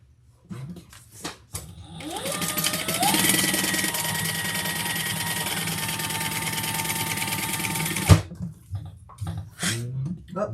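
Sewing machine stitching a leather and vinyl crossbody bag, a steady, fairly loud motor whir running for about six seconds between short pauses, with brief quiet clicks and handling at either end.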